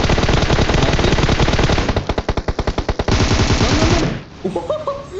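Automatic gunfire from the mobile battle royale game PUBG Mobile, a long loud burst with rapid pulsing shots that ends abruptly, followed by brief game interface tones.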